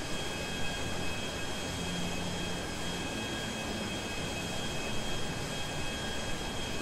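A jet plane flying in the video game GTA gives off a continuous, even engine roar and rushing air wash at moderate loudness, unbroken throughout with no voices.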